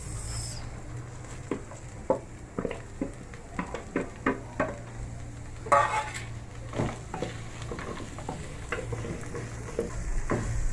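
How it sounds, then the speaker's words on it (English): Onions going into a pan for matumbo stew, with a steady soft sizzle of frying beneath repeated clinks and scrapes of a utensil stirring against the pan, close by with no talking. "Start by adding our onions."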